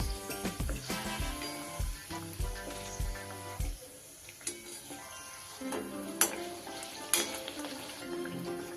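Cauliflower kachori frying in oil crackle and bubble close by, mixed with stirring and the clatter of utensils against a pan.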